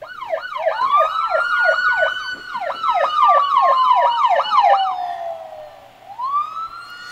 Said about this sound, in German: was für ein Soundeffekt ja auf jeden Fall und ganz offensichtlich in diesem Lied drin ist, sind diese Polizeisirenen